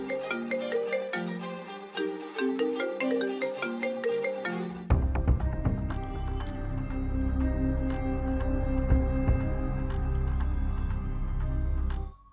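A phone ringtone plays as a repeating melodic electronic tune, then switches midway to a fuller, bass-heavy musical ring that continues steadily until it cuts off.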